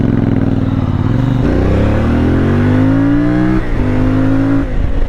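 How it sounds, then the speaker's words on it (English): A CFMoto 450 MT motorcycle engine on a test ride, loud and close, revving up through rising pitch, briefly dropping between gear changes and climbing again, with no talking. "What a great sounding bike."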